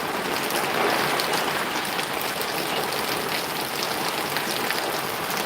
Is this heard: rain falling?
yes